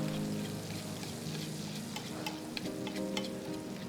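Hot butter sizzles and spits steadily as herbs such as parsley are gently basted in a frying pan, with faint spoon scrapes and occasional sharper pops close by.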